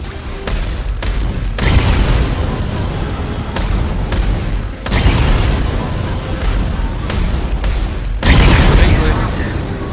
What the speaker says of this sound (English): I'm gonna try shooting them to force the reactor to overload.